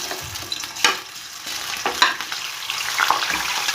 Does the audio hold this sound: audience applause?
no